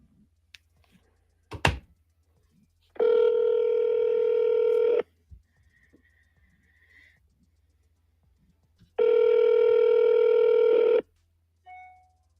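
A telephone call to a Florida number rings out on the line with two long, steady two-second ringback tones several seconds apart. Quiet gaps with faint clicks and a brief thump come before and between them.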